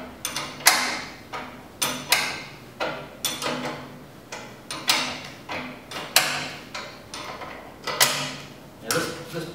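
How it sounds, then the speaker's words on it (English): An 18 and 19mm ring spanner tightening the rear bolt while assembling a Tow and Collect Mini trailer: a regular series of metallic ratcheting clicks and scrapes, close and fairly loud, repeating about every second. "take your 18 and 19mm ring spanner, doing the rear bolt up first."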